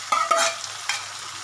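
Chicken being stirred in a frying pan for a lightly spiced chicken kosha: a low sizzle with a few quick scraping strokes, close and brief.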